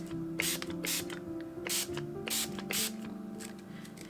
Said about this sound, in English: you're going to just spray it with a spray bottle